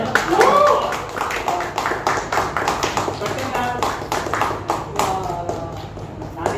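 Rapid rounds of hand clapping from a group on a Marathi TV serial set, sharp overlapping claps in quick rhythm, close and fairly loud, with people talking throughout.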